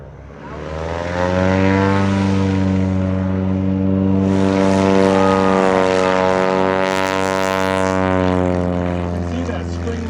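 A STOL-modified light plane with a 180 hp O-360 engine, wing extensions, Sportsman STOL kit and big tires roars loudly and steadily at full power on takeoff at a STOL competition in Valdez, Alaska, its propeller drone rising in pitch as it climbs.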